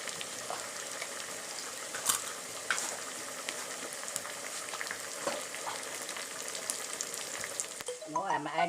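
Ghee with curry leaves sizzles and crackles in a pan, a steady close frying hiss with scattered pops and a few stirring scrapes that stays loud throughout.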